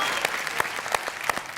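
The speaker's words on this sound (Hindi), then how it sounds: "ताली बजा रहे हैं साहित्यकार वाहित्यकार कवि ववि शायर वायर साहब" An audience at a kavi sammelan poetry gathering claps in a short, steady burst of lively applause, close and clear with no talking.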